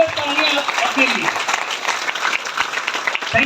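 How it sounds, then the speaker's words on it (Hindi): A seated crowd at a direct-selling business meeting claps steadily, a dense patter of hands running throughout with a voice heard over it at the start and end. "एक बार जबरदस्त तालियां अपने लिए।"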